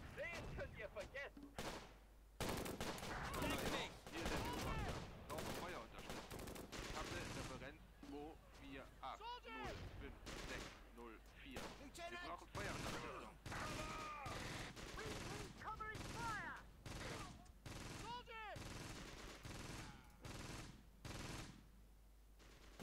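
Artillery fire in the video game Close Combat: Gateway to Caen comes as dense, repeated booming blasts and bursts of gunfire that continue without pause, with someone talking over the barrage.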